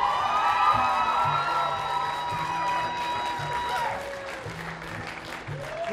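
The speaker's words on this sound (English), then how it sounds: "I usually get a big round of applause when I take the guitar solo." A live concert audience applauds and cheers after a guitar solo, steady loud clapping with some whoops while the band's instruments keep sounding underneath.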